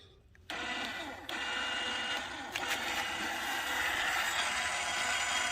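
A Black Jack electric caravan jockey wheel motor hums steadily, fairly quiet and close, running continuously with a couple of small shifts in tone as it moves.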